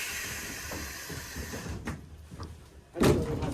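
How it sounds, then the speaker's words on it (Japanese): Left-side door of a retro cable car on a mountain funicular slides open with a mechanical rumble, ending in a sharp clunk as it stops, inside a quiet carriage. "左側のドア開きます。"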